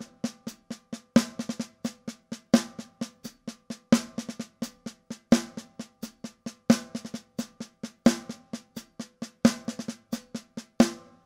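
Snare drum playing a funky bembe groove with a sneaky double, a steady run of crisp hits with regular louder accents, close and alone.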